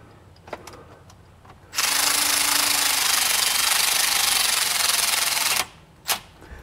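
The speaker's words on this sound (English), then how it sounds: "I hate this electric ratchet." An electric ratchet working on a Cub Cadet Challenger 500 utility vehicle whirs in one loud, steady burst of about four seconds, framed by faint clicks and a short tool blip afterward.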